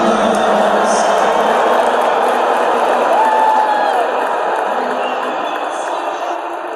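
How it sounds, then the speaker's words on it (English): Dense, loud stadium crowd at the US Open roaring and booing as Trump appears on the big screen, a sustained wall of voices with scattered whoops, steady throughout and fading slightly toward the end. "More loud boos erupting when Trump's face was shown on the big screen."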